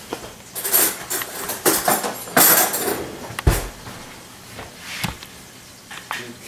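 A spoon clinks against a dish of potato salad with several sharp metallic taps and scrapes at close range, irregular and clattery.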